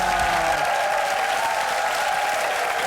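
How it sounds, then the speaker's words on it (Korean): Studio audience applauding for active-duty and reserve soldiers of an army unit on a Korean TV variety show, a steady dense round of clapping, close and loud throughout with no break. "박수 보내주세요."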